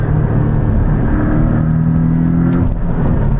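A Porsche 718 Boxster S with a turbocharged engine drones loudly and close, a steady rumbling engine note holding throughout, with a brief higher-pitched burst near the end.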